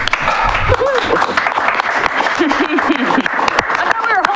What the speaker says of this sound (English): I thought we were holding our applause to the end.